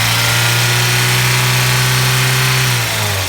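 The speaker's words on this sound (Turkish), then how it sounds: "Gaz veririz araca." A used car's engine revs loud and close with the oil filler cap off, a sustained droning roar that dips slightly near the end.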